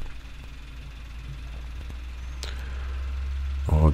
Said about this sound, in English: you can listen also your engine how it works, it must be stable, no any additional vibrations